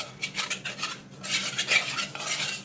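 A spoon stirs a cold custard mixture in a pan, making quick repeated scraping strokes in an uneven rhythm, close and moderately loud, with a brief pause before the stirring picks up again. No voices are present.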